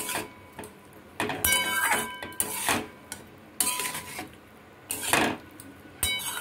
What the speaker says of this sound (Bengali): তিল বাটাটা দিয়ে আমি নাড়ব